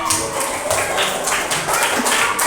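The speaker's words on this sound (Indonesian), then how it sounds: "kita boleh kasih tepuk tangan" A classroom of children claps their hands together in a dense, fairly loud burst of applause lasting a couple of seconds, with a little voice mixed in.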